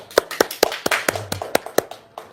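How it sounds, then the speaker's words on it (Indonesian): A few people clap at an Indonesian motivational talk, giving sparse, uneven, sharp claps about four per second, near and fairly loud, fading out after two seconds. "Tepuk tangan dulu dong."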